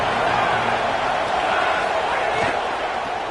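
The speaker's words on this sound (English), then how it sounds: "This crowd ready to make its presence known." Steady roar of a packed football stadium crowd, a dense continuous wash of cheering that stays loud throughout, with a broadcast commentator's voice over it.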